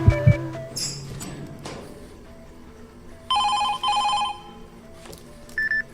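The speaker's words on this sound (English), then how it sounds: "Right before our shift ends, Phone Guy gives us a call, and he sounds really frantic." Electronic telephone ringing in the horror game FNAF 2 Reimagined, two clear ring bursts in the middle of the clip over a low ambient hum, with a few thumps at the start and a faint beep near the end.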